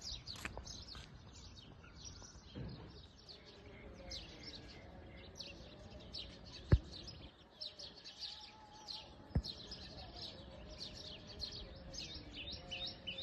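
Birds chirp and twitter steadily at a distance, faint and repetitive, with a couple of sharp clicks cutting through the quiet background.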